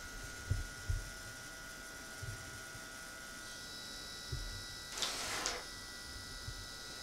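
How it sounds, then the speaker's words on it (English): An HP Sprocket pocket-sized photo printer feeds and prints a picture, giving soft clicking and ratcheting ticks at irregular intervals and one brief whirring burst, quiet and close with no talk. "In about 10 seconds or so, it starts printing."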